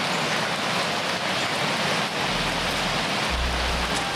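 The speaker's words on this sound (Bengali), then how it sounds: "বৃষ্টি পড়ছে তো।" Steady rain pours down outdoors in a cartoon scene, a dense, even hiss of falling drops that fills the whole stretch with no talk over it.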